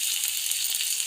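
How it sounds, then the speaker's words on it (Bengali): Chopped ginger, garlic and chili sizzle steadily in hot oil in a pan, a continuous close hiss with no talking. "ভালো করে লাল লাল করে ভেজে নিচ্ছি"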